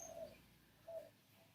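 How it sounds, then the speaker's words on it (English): Birds, pigeons or doves, cooing in woodland trees: two soft, short coos about a second apart over a quiet background, faint and distant. "You can hear the birds overhead in the trees."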